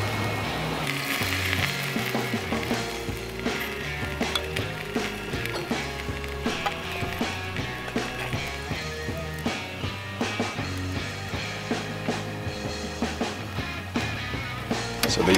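Steaks sear in a Beefer grill, a constant hissing sizzle with small crackles, heard alongside a busy background of other layered sound.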